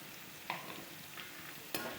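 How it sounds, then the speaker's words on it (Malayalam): Carrot, onion and curry leaves sautéing in a pan, a soft, quiet sizzle broken by two distinct scraping strokes of a spoon, close and without talk. "കറിവേപ്പില ഒരു പകുതി ക്യാരറ്റ് അതൊന്ന് മൂപ്പിച്ചെടുക്കുക"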